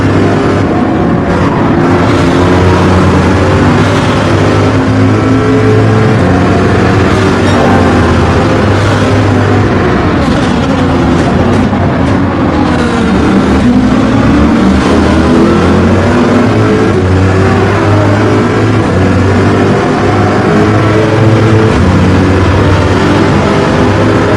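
Race car engines in Gran Turismo 7 scream loud and continuous, rising and falling through hard revving and gear changes as several cars, including a Corvette and Lamborghinis, run close together in a World Series race.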